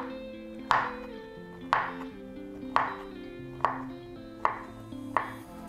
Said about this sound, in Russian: Нарезаем наш авокадо